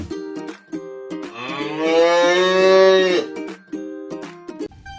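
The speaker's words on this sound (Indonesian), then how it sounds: "Wah, kita mendapatkan si sapi, binatang pemakan rumput teman ya." A toy's recorded cow moo, heard as one long, loud, drawn-out low call in the middle, framed by short electronic toy jingles before and after, with no talking.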